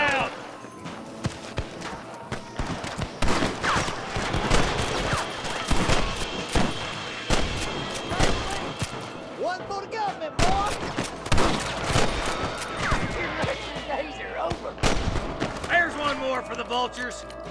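Gunfire in Red Dead Redemption 2 during a marshal's fight, sharp scattered shots and bursts crackling across the scene amid shouting men and hoofbeats.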